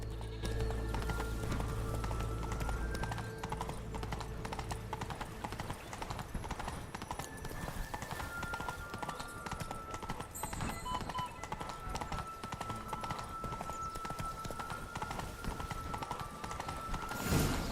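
Roach the horse galloping in The Witcher 3, a steady run of clip-clop hoofbeats throughout with game music and ambience underneath, loud and close.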